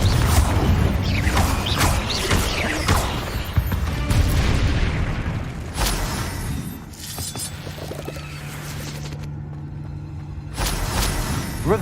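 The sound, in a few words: Confringo blast spell in the video game Hogwarts Legacy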